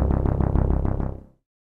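Xpand2 Digalog synth brass run through the Xpand2 arpeggiator in Pro Tools, giving a quick, even string of about seven pulsing notes over a second before it decays and cuts to silence.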